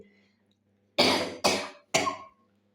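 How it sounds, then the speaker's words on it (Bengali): Three sharp coughs in quick succession from a woman who is unwell, close and loud after a quiet pause, with no talking. "আসলে কাশি এসে গিয়েছিল"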